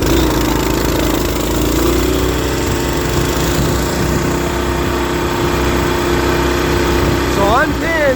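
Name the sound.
mini bikes drag racing, clutch vs torque converter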